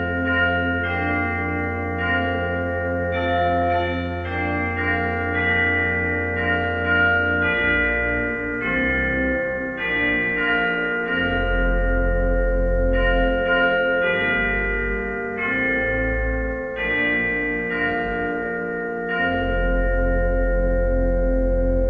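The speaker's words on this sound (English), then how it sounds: "Worship begins with the sounding of the chimes." Church chimes ring out a slow, sustained melodic sequence of bell tones marking the start of Presbyterian Sunday worship, resonant and clear with no talking.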